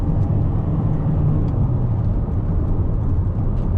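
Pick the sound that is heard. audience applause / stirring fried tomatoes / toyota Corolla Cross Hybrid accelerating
toyota Corolla Cross Hybrid accelerating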